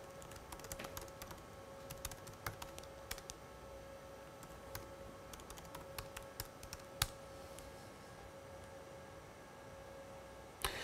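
Rapid irregular keystrokes on a computer keyboard as a username and password are entered, close and moderately loud over a steady electrical hum, with occasional sharper key clicks.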